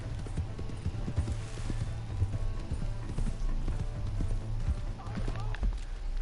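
A horse in the Red Dead Redemption 2 video game gallops with rapid rhythmic hoof clops, close and steady, while voices talk over the hoofbeats.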